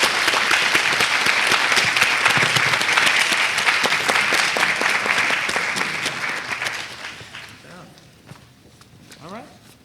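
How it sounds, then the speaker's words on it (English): Sustained clapping from an audience, loud at first and then tapering off into scattered claps over the last few seconds. "Let's give our actors a round of applause."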